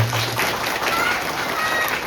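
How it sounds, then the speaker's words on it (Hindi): Congregation at a Catholic Mass in Bilaspur, Haryana clapping, a dense continuous patter of many hands filling the hall, with a voice speaking faintly underneath. "आज ताली बजाइए अपने लिए"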